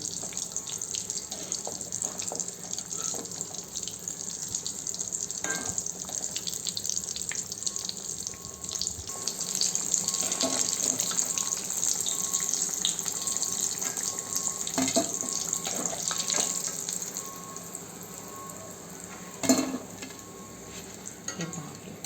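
Vada pav vadas deep-frying in hot oil over a medium gas flame, a steady close sizzle and hiss that keeps going throughout, with occasional stirring and clinking on top.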